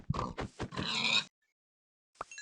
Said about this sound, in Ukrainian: Хочу вбити ще одну свинку.